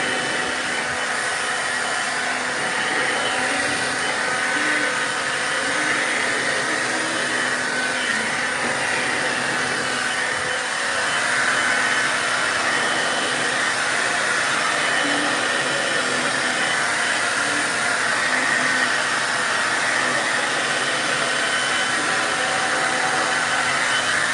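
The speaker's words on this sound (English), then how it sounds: "I'm gonna take out the blow dryer real quick and blow dry it so that I can cut my ends" A handheld blow dryer drying hair, running as a steady loud whooshing whir for a long stretch, close to the microphone, with slight shifts as it moves and no talking.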